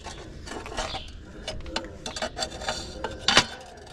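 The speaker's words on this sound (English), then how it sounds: "Take the hitch pin off." Metal clinks and scrapes as a steel hitch pin and hairpin are pulled free and handled, a run of small rattles and taps ending in a sharper clank near the close.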